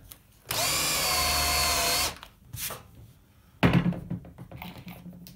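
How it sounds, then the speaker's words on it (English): A power drill bores a pilot hole through timber and an aluminium skin for a camper van bed frame: one loud, steady whine of about a second and a half, then scattered clicks and clunks of handling nearby. "Just drilled a pilot hole through the timber and through the first skin of aluminium."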